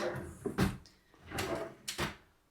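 Kitchen drawers opened and closed in a holiday apartment kitchen, giving several sliding rumbles and sharp wooden knocks close by, in three separate bursts.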